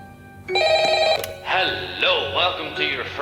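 An old-style telephone bell rings in a Roblox horror game set in a haunted convenience store at night, with a steady ring followed by a warbling electronic ring that repeats several times, loud and close.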